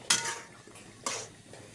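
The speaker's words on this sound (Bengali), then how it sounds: "এখন আমি এর সাথে ভালোভাবে নেড়ে চেড়ে নিচ্ছি।" Eel fish being stirred with tomato in a cooking pan, two distinct scraping clinks of a utensil against the pan over a quiet background.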